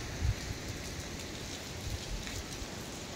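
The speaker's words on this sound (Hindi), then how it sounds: "यहाँ पे दो तीन दिन से राजस्थान में बहुत बारिश हो रही है, बहुत बहुत बहुत ज़्यादा।" Heavy monsoon rain falls at Mount Abu in Rajasthan near Nakki Lake, a steady, even hiss of drops on surfaces with a few low thumps, moderately loud and without talk.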